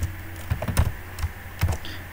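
Code being typed on a computer keyboard: a few scattered, close key clicks in small bursts with short pauses, over a faint steady hum.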